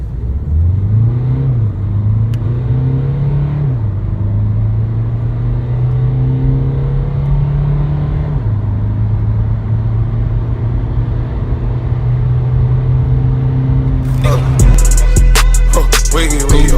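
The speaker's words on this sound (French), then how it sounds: "Voilà, déjà le mode sport, ça monte dans les tours." A 2016 Mercedes B 180d diesel with automatic gearbox revving and accelerating in sport mode: a close, steady engine drone rising and stepping through gears, ending in a louder rumbling surge with clicking noises.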